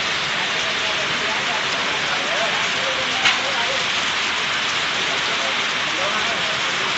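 Heavy rain pours onto a market street lined with shops, a dense, steady hiss that stays loud and unbroken throughout, with only a faint click near the middle.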